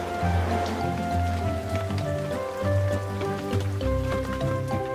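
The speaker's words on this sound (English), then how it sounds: "The truck, tractor, and combine harvester have been left outside in the rain." Steady rain falling outdoors on a farm where a truck, tractor and combine harvester sit, a soft continuous patter with a low tonal music-like layer beneath, fairly quiet throughout.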